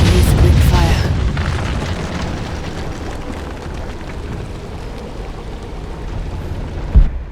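A Greek fire vessel bursts against an unstable stone statue in Rise of the Tomb Raider. A loud boom opens, then settles into a long rumbling, crackling wash, and a sharp thud lands near the end.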